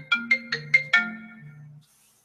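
A phone's incoming-call tone plays as five quick chiming notes over a short melodic line, then the melody rings out briefly and stops, clear and close with no talking.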